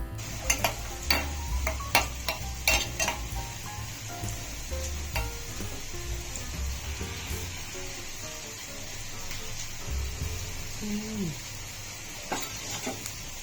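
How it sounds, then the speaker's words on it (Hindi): Raisins frying in warm ghee over a low flame: a soft continuous sizzle, with occasional close clinks and taps of a stirring utensil against the pan. "किशमिश को बिल्कुल हल्के गर्म घी में मैंने धीमी धीमी आंच पर भून लिया या फ्राई कर लिया"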